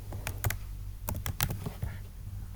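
Typing on a computer keyboard while building a project in Scratch: quick, uneven bursts of close key clicks with short pauses, no voice.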